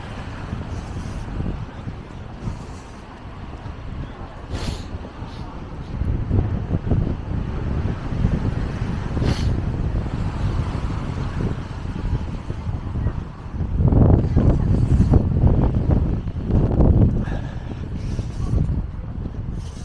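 Gusty wind buffets the microphone on a city-centre street in Stockholm, Sweden, in April, a loud low rumble that swells and eases in waves, strongest toward the end.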